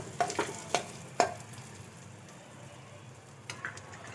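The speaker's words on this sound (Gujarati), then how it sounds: "આવી રીતના આપણે બે મિનિટ માટે હલાવીશું અને ગેસને બંધ કરી દઈશું" Fenugreek and green chillies stirred in a pan, a few sharp spoon scrapes and clinks at the start and again near the end over a faint, quiet sizzle.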